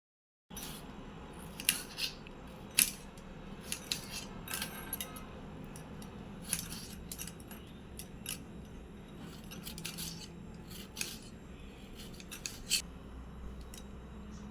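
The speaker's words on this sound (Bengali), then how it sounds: "এবারে আমি 2টো টমেটো নিয়েছি, সেই টমেটো দুটো ছোট ছোট করে কেটে নেব।" Two tomatoes being chopped into small pieces with a knife, a run of quick, irregular crisp taps and cuts against a board, fairly faint and close, with no voices.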